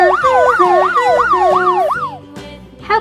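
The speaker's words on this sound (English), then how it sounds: "Look, it's a blue police car." A blue toy police car plays a loud electronic wailing siren that rises and falls in quick regular sweeps, then cuts off, followed by a few plastic clicks.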